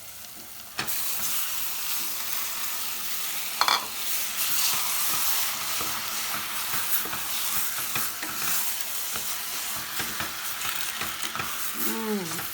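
Tomato goes into a pan of softened onions for pizza sauce, setting off a loud, steady sizzle with stirring scrapes and a brief sharper burst of frying partway through; no talking.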